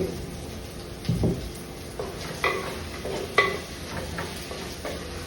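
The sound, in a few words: onions frying in pan for ridge gourd curry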